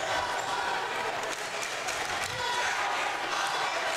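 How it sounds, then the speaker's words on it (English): Student cheering sections at a high school boys varsity basketball game (BCHS vs Cleveland) fill a gym with a steady wash of crowd noise, shouts and cheers going back and forth, with no single standout burst. "The cheering sections are cheering back and forth with each other."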